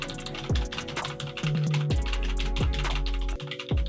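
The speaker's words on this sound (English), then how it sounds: "see if we get the sound from the keyboard" Rapid computer keyboard typing, a steady stream of clicking keystrokes close by, captured through a USB microphone, with a low tonal hum running underneath.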